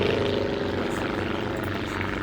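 A Druine D.31 Turbulent light aeroplane flies past during an airshow display, its small propeller engine giving a steady loud droning buzz that holds throughout, with no voices over it.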